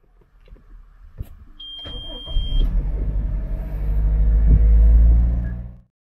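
Inside a Toyota HiAce gasoline van, a short beep and a soft click come first, then the engine starts and settles into a low, steady idle hum that builds gradually before cutting off abruptly.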